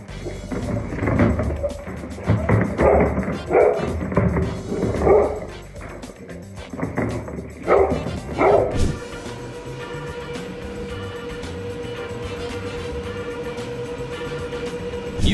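A playing dog barks repeatedly in short irregular bursts, loud and nearby, then stops as a steady low rumble with a faint tone carries on alone.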